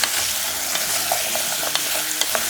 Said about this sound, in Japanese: 水切りしたじゃがいもも入れて炒めていきましょう。